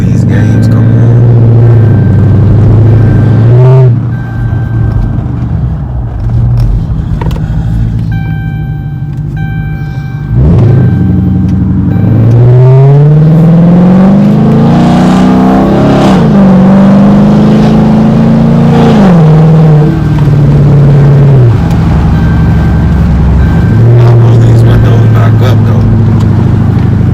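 A 2013 Chrysler 300S with a 5.7 Hemi and rear suitcase muffler delete idles with a loud deep rumble, then revs and accelerates in several rising, throaty pulls close by.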